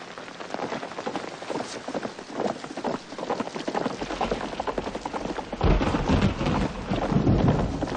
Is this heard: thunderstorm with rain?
yes